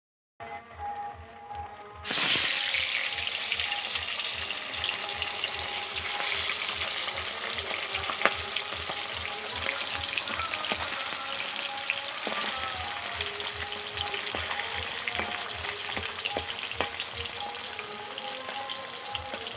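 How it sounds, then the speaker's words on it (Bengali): Fish frying outdoors in light drizzle, a steady loud sizzle that begins after a brief quiet moment and continues unbroken, with faint intermittent tapping. "তো মাছ ভাজছি"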